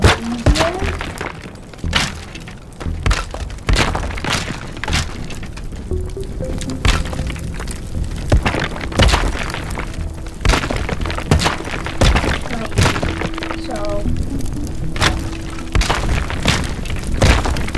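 Voxel destruction in the video game Teardown as a building is smashed while it burns, with frequent sharp cracks, breaking thunks and crumbling debris in a dense, irregular series and occasional tonal game sounds.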